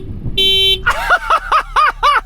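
A Honda Civic Type R's horn sounds up close, first a steady blare and then a run of five short, loud, evenly spaced toots.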